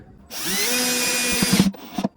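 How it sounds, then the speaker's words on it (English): A power drill whirs steadily for over a second as it drives a long screw into a hot water boiler, then slows with a few grinding stutters before stopping. "Get a couple of turns of that long screw before using the power tool"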